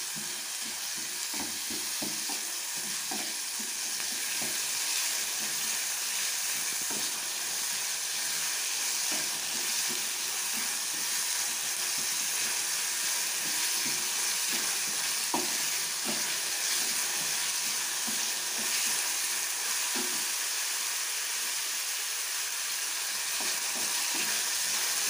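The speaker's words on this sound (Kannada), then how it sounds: "ಫ್ರೈ ಮಾಡ್ಕೊಳ್ಳಿ ಇದನ್ನು ಚೆನ್ನಾಗಿ. ಲೋ ಫ್ಲೇಮಲ್ಲಿ ಇಟ್ಕೊಳ್ಳಿ." Onions fry over a low flame for egg bhurji, making a steady, moderate sizzle that runs unbroken throughout, with repeated light spatula stirs and scrapes against the pan and no voices.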